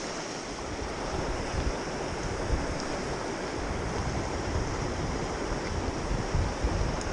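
Strong wind gusts buffet the microphone beside a river while fly fishing in Shenandoah National Park, a constant broadband roar blending with rushing water and no talking.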